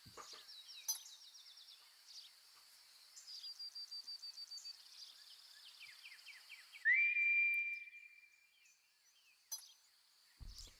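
A whistle sounds in the video game Final Fantasy VII Ever Crisis: a clear sustained tone with a rising start, set among chirping, fluttering game effects and short rapid trills, fairly quiet overall with a few sharp clicks near the end.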